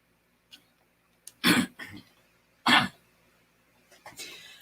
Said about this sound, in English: I'm coughing a bit